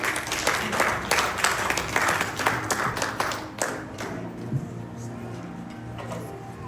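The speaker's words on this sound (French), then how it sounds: "Sous vos applaudissements." Applause from a church congregation, a lively, fairly close burst of many hands clapping that gradually thins and softens over several seconds.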